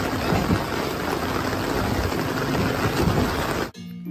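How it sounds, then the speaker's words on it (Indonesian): A toy helicopter makes a continuous, close whirring rotor-like noise for a few seconds, then cuts off abruptly. "Wow, lihat, ada helikopter."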